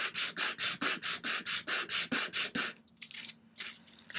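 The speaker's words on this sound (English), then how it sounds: "to ensure that I get an even sanding on it." Steady back-and-forth hand sanding of a plastic bead, about a dozen even rhythmic rasping strokes, close and clear, then a few softer, irregular scrapes.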